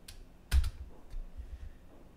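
A handful of faint, sparse clicks from numbers being typed on a computer keyboard in a quiet room, with one sharper double keystroke standing out in the middle.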